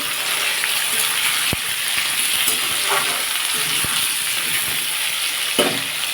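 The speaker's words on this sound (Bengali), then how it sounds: "এই তেলটা ফোড়নটা দিয়ে আমি আলু পেঁয়াজ টমেটো সব দিয়ে দিয়েছি" Potato, onion and tomato fry in tempered oil in a pan, giving a strong, steady sizzle broken by sharp clicks and scrapes of stirring, with no speech.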